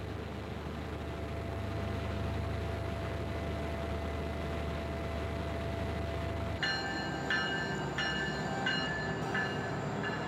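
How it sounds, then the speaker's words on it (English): A passenger train from Anchorage rolls into Talkeetna, Alaska, with a low steady rumble. Partway through, a loud repeating tonal signal sounds in several pulses over the rolling noise, and no one speaks. "A train from Anchorage arrives once a day."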